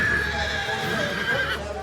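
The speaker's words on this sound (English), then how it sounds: "They're some of the most sought-after racehorses in the world." A racehorse whinnies loudly and steadily in a close, continuous neigh lasting nearly two seconds, with a faint clip-clop and some background noise beneath it.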